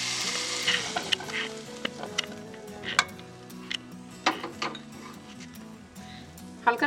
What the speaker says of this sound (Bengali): আলু আর ফুলকপিটা দেখুন হালকা করে ফ্রাই করা হয়ে গেছে